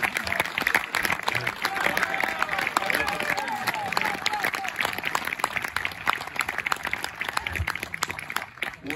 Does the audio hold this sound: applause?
yes